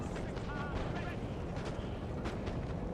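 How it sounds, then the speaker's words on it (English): Napoleon: Total War cannon artillery rumbles in a dense, continuous battle din, with booming shots and crackling fire blending together under a voice talking. "Maybe I can shoot at them with the cannons over the top."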